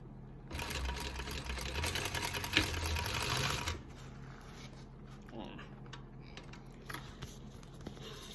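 A sewing machine runs in a loud burst of fast stitching for about three seconds, then stops, leaving quiet handling noises and faint room sound.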